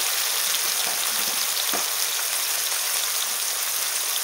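Tomatoes fry in a pan with salt and turmeric over low heat, a dense, even sizzle that hisses on without pause, with one faint tap partway through.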